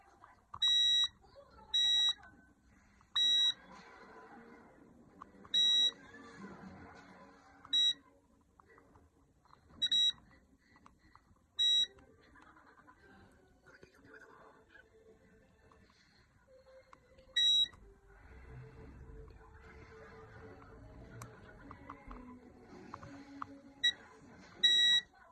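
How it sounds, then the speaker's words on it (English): A multimeter set to continuity chirps in short, high, evenly pitched beeps as its probes touch motherboard pins one after another, about a dozen beeps spaced irregularly over faint background handling noise. "Let's go through the pins and see if they all beep."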